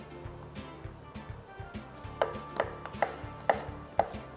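Five tablespoons of butter being chopped into small pieces with a knife on a cutting board, a series of soft, evenly spaced taps that grow sharper and louder toward the end, with no voices.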